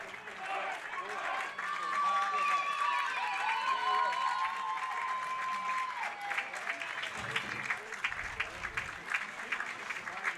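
Rugby union players from a Tamworth club clap the opposing Robb College team off the field after a local New England match, with steady outdoor applause and crowd noise and a commentator talking over it.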